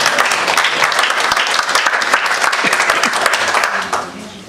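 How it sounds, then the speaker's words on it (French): Audience applause at a village gathering in Cessoy-en-Montois, France, a dense steady clapping for a local man that fades out near the end. "M. Roger de Normandie, vous pouvez l'applaudir"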